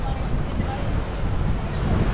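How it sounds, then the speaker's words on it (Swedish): Strong wind buffets a microphone on a bridge, a continuous loud rushing roar with gusty swells throughout. "Jävlar vad det blåser."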